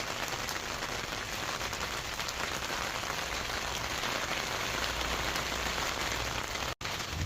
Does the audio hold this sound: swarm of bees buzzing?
no